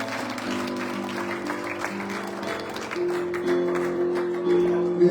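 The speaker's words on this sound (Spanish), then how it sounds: "Alguien déle un aplauso fuerte a la gloria del Señor en esta tarde." A Spanish-speaking church congregation applauds during a sermon, steady clapping mixed with held musical tones that swell slightly louder toward the end.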